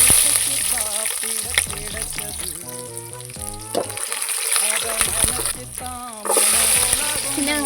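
Garlic and green chilli sizzling in hot oil for prawn kulambu over a wood-fired stove, a loud continuous crackle with bursts of spitting and the scrape of stirring, no talking.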